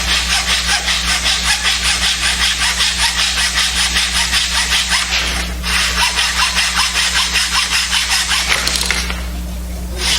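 A small hacksaw cutting in a woodworking hand-tool workshop, making loud, rapid rasping strokes in an even back-and-forth rhythm, briefly pausing midway and slowing near the end, over a low steady hum.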